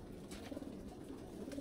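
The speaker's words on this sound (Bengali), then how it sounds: "খাইতেছে সবাই কবুতর।" Pet pigeons coo softly in a loft while being fed, a faint, steady murmur of low throaty calls under a background hum.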